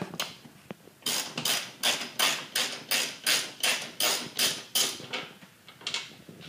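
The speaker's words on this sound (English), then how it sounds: "we're going to remove the fender bolt with the 10mm socket" A 10mm socket wrench works a fender bolt loose on a 2012-or-later Ford Focus, giving about a dozen close, loud, evenly spaced ratcheting strokes in a steady rhythm with no talking.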